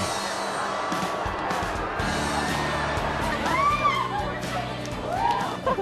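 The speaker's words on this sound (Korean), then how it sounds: "둔탁한 경주마 달리는 소리가 파묻힐 정도로 관중들의 환호성이 대단하다" A big crowd at a horse race cheers and shouts loudly and continuously, with rising whoops near the end; an announcer's voice talks over the roar.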